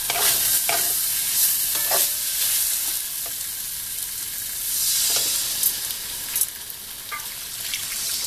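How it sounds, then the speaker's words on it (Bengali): Fried potato pieces tipped into hot oil in a pan for a Bengali katla fish curry, with steady loud sizzling and frying, broken by repeated scraping stirs throughout. "এবার আমি আলুটা দিয়ে দেবো, ভেজে রাখা আলু এর সঙ্গে আলুটা দিয়ে দেবো।"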